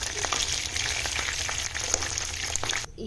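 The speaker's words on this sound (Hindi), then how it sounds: "ये हमारी मिनी ब्रेड पॉकेट्स हो चुकी हैं फ्राई" Mini bread pockets fry in hot oil with a steady, moderately loud bubbling sizzle that cuts off abruptly near the end.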